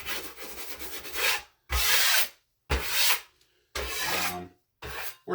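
Repeated scraping strokes of a drywall knife across joint compound, each pass a loud gritty rasp separated by brief pauses.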